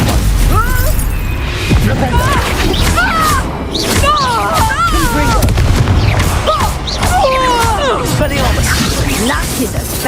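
Repeated blasting-spell explosions from the Hogwarts Legacy video game boom and crash in loud bursts over about ten seconds, mixed with shouted character voices and combat noise.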